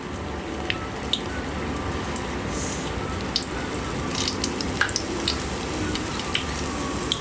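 Fried dough sticks (youtiao) crackle steadily in hot oil in a wok, a quiet, continuous bubbling hiss dotted with small pops and ticks throughout.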